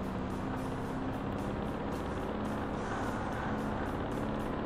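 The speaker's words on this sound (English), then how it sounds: "God, this has a terrible engine note" A steady, droning car engine hums at a constant pitch throughout, with no talking, a car cruising in the racing game Ford Racing 3 on Xbox.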